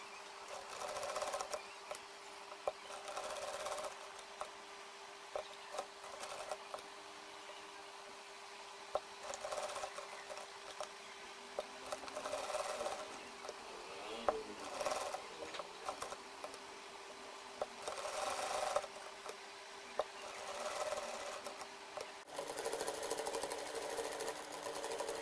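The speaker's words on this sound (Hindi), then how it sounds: "अब मैं मशीन की सिलाई लगाऊंगी। एक सिलाई हम यहाँ लगाएंगे और एक सिलाई यहाँ लगाएंगे।" A sewing machine stitches piping onto a garment neckline in short, quiet bursts of stitching with many stops and starts. A faint steady hum runs underneath.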